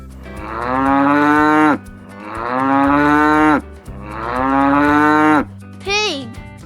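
A cow mooing three long, loud, drawn-out times up close, each moo lasting nearly two seconds, followed by a short higher-pitched call at the end.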